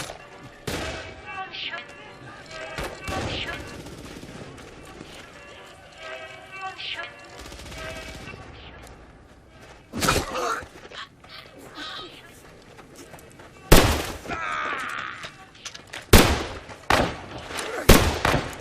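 Machine gun fire in a Hindi-dubbed war movie battle scene: scattered sharp shots and short bursts, loudest and densest toward the end, heard among voices and background sound.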